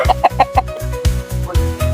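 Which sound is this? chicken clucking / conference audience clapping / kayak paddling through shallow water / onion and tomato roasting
chicken clucking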